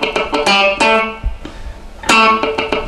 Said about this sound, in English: how to play dead notes or muted notes